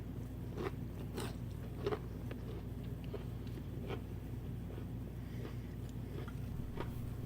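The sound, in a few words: biting crunchy keto bread crisp dipped in ranch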